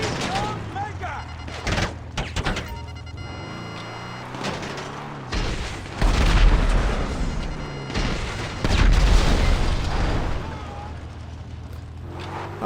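A missile explodes in the GTA 5 Online video game, bringing loud booming blasts and bursts of gunfire over an ongoing rumble, with a heavy swell around the middle and another near the end, and speech mixed in.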